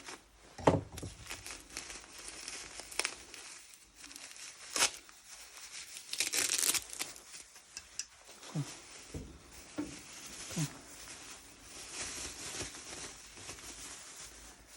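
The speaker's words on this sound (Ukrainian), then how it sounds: "Знову скотч." Adhesive tape being torn and peeled from grape seedling packaging in short ripping bursts, mixed with crinkling plastic and light handling noises, close and fairly quiet.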